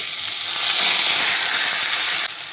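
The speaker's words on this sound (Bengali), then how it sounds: "এই তেলের মধ্যে দিয়ে দেব কিছুটা কালো জিরে ফোড়ন, দিয়ে দেব পেঁয়াজ বাটা" Nigella seeds and onion paste hit hot frying oil, a loud, close, steady hissing sizzle that eases slightly toward the end, with no talking.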